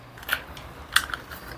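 Scissors snip through fabric while a bias-cut flared skirt is cut out, giving two short, quiet crisp cuts with a faint tick between them and no voices.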